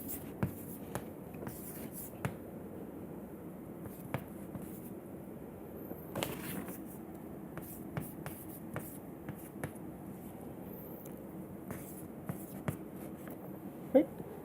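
Chalk or marker scratching and tapping on a board during a physics lecture, faint irregular strokes and clicks in a quiet room, with a lecturer's voice murmuring softly underneath.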